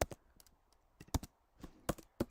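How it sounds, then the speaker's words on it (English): A computer keyboard is typed on in quick, irregular clicks and taps, faint and close with no voices. "my keyboard sounds are going through"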